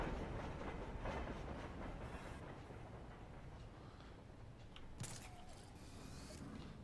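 Trains rumbling and clattering along elevated tracks in the Gotham Knights video game, a steady mechanical rolling noise with clickety-clack and creaks, plus a sharp metallic burst near the end.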